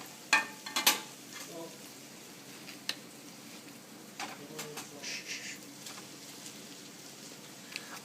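Ground sirloin and ground veal sizzle softly in a pan with vegetables, a steady low frying hiss with a few scraping stirs and clinks near the start.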